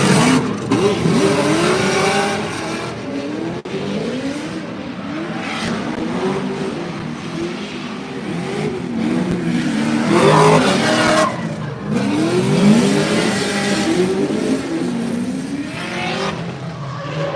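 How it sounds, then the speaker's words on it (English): A Formula Drift car engine revs hard during warm-up runs, rising and falling in repeated sweeps with tire squeal and skidding, loud and fairly close, without talk over it. "Car sounds hard."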